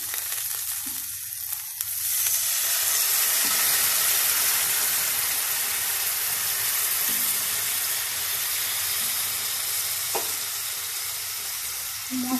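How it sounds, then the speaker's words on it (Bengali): Water splashing into a hot pan of chili, cumin and turmeric powders with salt and sugar, setting off a loud, steady sizzle that holds for the whole stretch with faint stirring. "এরপরে আমি দিয়ে দেবো জল।"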